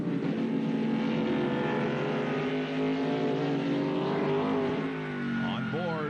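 Racing trucks roar around the track at the 1997 Exide/Kragen 151, a sustained engine drone with rising and falling pitch as trucks pass, under continuous commentator talk.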